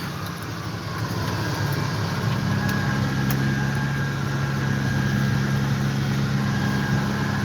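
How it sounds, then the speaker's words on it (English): A farm tractor idles steadily beside a running hay baler out in the field, a constant low droning hum with a faint higher whine that holds even from start to finish, with no voices. "I just let the tractor idle a little bit and put the speed up."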